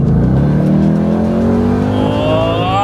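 Ford Mustang GT500 engine revving close by, a loud rising roar that climbs steadily in pitch over a few seconds, with no voices over it.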